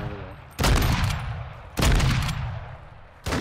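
Three heavy, booming gunshots in a shooting video game land about a second apart, each loud and close with a long rumbling tail.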